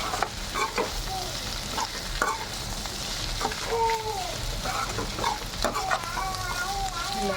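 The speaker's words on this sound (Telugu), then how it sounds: "అలాగే ఒక 5 to 6 minutes మిరపకాయలని బాగా హై ఫ్లేమ్ పెట్టి ఇలా నీట్గా వేయించుకోవాలి." Red chillies fry over a high flame in a pan while being stirred, giving a steady close sizzle broken by scraping strokes of the spoon, with faint chirping sounds in the background.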